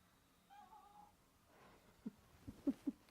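A house cat gives a soft, drawn-out meow in a quiet room during a yoga session, followed by a few faint thumps and small movement sounds.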